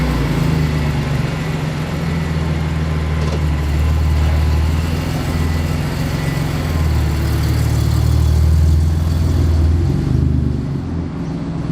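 A tuned Audi 3.0T V6 fitted with downpipes idles with a loud, harsh, droning exhaust, a steady, rough low rumble that continues without a break throughout.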